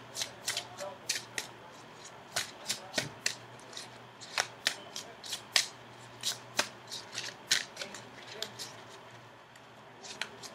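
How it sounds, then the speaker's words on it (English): Tarot cards being shuffled by hand, a run of crisp riffling snaps and flutters in quick uneven bursts, close and clear over a faint steady hum. "go ahead and shuffle for your outcome card"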